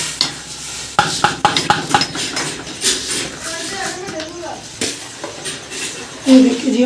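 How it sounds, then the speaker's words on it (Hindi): Rice goes into a large pot of boiling water for a big home-cooked dish, with stirring, spoon-on-pot clatter and a light sizzle close by, as someone talks over the cooking. "इसमें डाल दिए चावल।"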